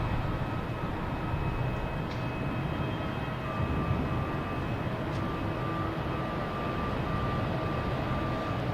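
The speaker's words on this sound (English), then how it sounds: "Next taking off, we have Delta heading to Charlotte in E175." A Delta Embraer E175 jet takes off at Boston Logan airport, heard as a steady, broad engine roar with a faint whine, moderately distant and without voices.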